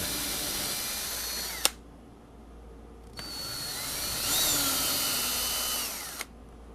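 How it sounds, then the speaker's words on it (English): A power drill whines loudly in two long bursts while boring holes in a Jackson Flying V guitar body, its pitch steady then dipping, with sharp clicks as the trigger starts and stops. "After drilling the new holes"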